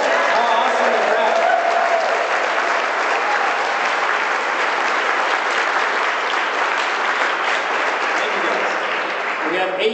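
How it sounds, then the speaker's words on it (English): Loud, sustained applause from an audience welcoming international visitors at a large gathering, a dense wash of clapping that carries on unbroken for the full ten seconds, with some crowd voices mixed in. "And can we applaud them?"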